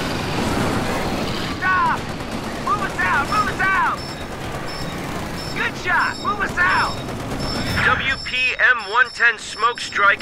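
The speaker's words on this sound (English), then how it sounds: "Heavy machine guns!" Heavy machine gun fire in a Company of Heroes 2 battle, rattling bursts and booms mixed with shouted voices and chaotic combat noise, getting sharper and louder toward the end.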